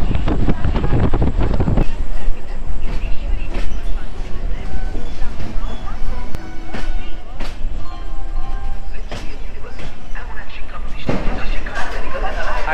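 A sleeper class passenger train pulls out of Balasore railway station, a steady loud rumble of rail noise and rushing wind, with clanks and rattles through the run and a swell of louder rolling noise near the end.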